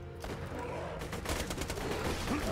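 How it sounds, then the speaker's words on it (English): Gunfire in the video game Borderlands 2 crackles as a rapid, dense fusillade of shots over a couple of seconds, loud and steady with overlapping bursts. "this gun is way too inaccurate for me to be shooting from where I'm doing"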